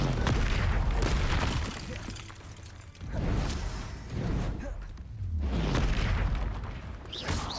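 Incendio fire spell cast repeatedly in Hogwarts Legacy, with loud whooshing fiery bursts and booming impacts recurring in waves alongside game effects.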